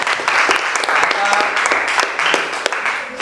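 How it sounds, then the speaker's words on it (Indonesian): A classroom applauds after a group presentation, a loud, steady round of clapping from many hands filling the whole stretch, close and continuous with faint voices underneath. "kita tepuk tangan dulu untuk"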